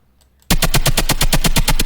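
After a brief quiet moment, a dry, slappy synth lead made in Serum starts up, firing rapid, evenly spaced percussive hits in a tight stuttering rhythm that sounds almost like gunfire.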